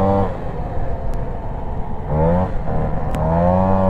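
50cc moped engine fitted with an Airsal 45mm kit, running rich, revved twice on the throttle with rising whines over a rough idle, close and loud, with no talking.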